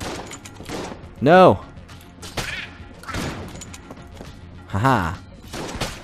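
Shotgun blasts from the video game Enter the Gungeon sound as short punchy bursts amid game effects, with a player talking and laughing over them.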